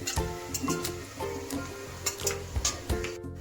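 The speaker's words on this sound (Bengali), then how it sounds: "দারচিনি, লবঙ্গ, এলাচ দিয়ে দিলাম ফোড়নে" Whole cinnamon, cloves and cardamom, with dried red chilli, cumin seeds and bay leaf, sizzle in hot oil over a gas flame, a steady close frying hiss with crackles and pops, while a spoon stirs and scrapes the pan.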